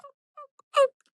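A turkey call imitating a hen's yelp gives three short, clear, evenly spaced notes, with the last one louder and raspier, heard alone and close.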